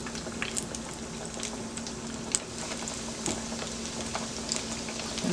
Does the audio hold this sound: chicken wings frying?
yes